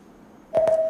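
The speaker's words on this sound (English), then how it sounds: "Let us hear the sound of the buzzer from Subinso RC." A quiz contest buzzer sounds once during a school quiz qualifier test, a sudden steady electronic tone that begins halfway through and holds to the end, loud against a quiet room.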